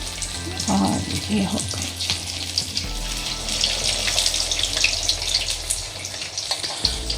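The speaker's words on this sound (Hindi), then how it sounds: "ऑयल गर्म हो गया इसमें, और ये मैं अब इसमें फ्राई कर रही हूँ।" Bread rolls frying in hot oil, a steady bubbling sizzle that runs through the whole stretch at close range, with someone speaking briefly over it and a few clinks near the start.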